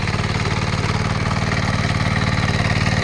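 A power weeder engine runs steadily while tilling a field, a continuous mid-low droning chug held at an even level for the whole stretch, near and alone with no talking.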